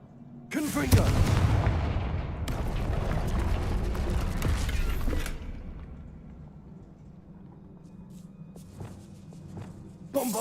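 A spell blasts through a barrier in Hogwarts Legacy, opening with a loud booming burst and a crumbling roar that fades into low rumbling and a few lighter knocks; no voices during it.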